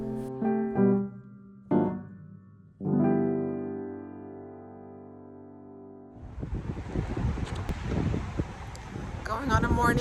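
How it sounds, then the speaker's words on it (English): Strong, warm wind sweeps across an outdoor morning walk, loud gusty rumbling and microphone buffeting that rises after a stretch of tonal sound and talk at the start. "it is windy, like really crazy windy"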